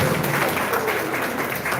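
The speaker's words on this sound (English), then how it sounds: "another round of applause" Audience applause at an honouring ceremony for Old Harbour diaspora, a short, steady burst of many hands clapping up close, with no voices over it.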